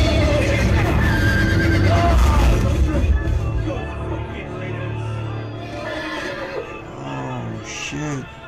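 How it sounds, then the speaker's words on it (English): Horses neighing and whinnying amid busy game audio with hoofbeats in the Game of Thrones Telltale Series game, while a person talks excitedly over the top. "Horses coming down."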